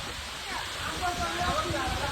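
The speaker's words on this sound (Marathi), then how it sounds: "खतरनाक पावसाने धिंगाणा घातलाय" Heavy rain pouring down hard, a dense, steady rushing wash of water heard close and fairly loud, with a voice briefly talking over it.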